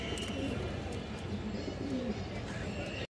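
A large Indian Kaldam female pigeon coos in low murmurs amid other cooing birds, a steady, soft, continuous rumble at close range without a pause.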